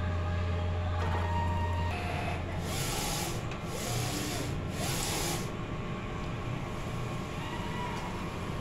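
A DTF printer runs a nozzle test, its print head sweeping back and forth in three clear rubbing passes over a constant mechanical hum, close and moderately loud with no talking.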